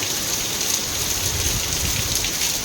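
Heavy rain pours steadily in a hilly area, a dense, continuous hiss of drops drumming on surfaces, close and even throughout with no voices.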